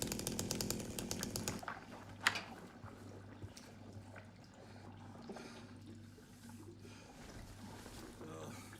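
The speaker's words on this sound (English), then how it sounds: "I love the fact of being able to use a chainsaw, just knocking the wall down and everything." A chainsaw roars loudly through a wall in the Silent Hill 2 remake, a dense buzzing burst for the first second and a half before cutting off into debris clatter and a low ambient hum.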